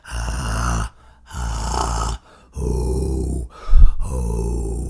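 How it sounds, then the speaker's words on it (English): Four rough, rasping growls made by a voice on inhaled breath, each lasting about a second with short pauses between, close and loud. "that's how I went about learning the inward growl"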